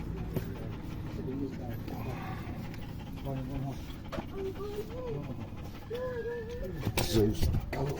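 Dog panting in a home workshop during VW Passat shock absorber and coil spring work, breathing steady and close across the clip, with a voice and some clatter over it.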